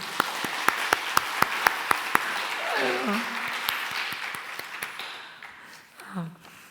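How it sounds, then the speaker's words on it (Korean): Church congregation clapping for the worship team at a Friday evangelism meeting, opening with a few sharp, evenly spaced claps before fading under a voice. "우리 찬양팀한테 박수 한번 부탁드리겠습니다."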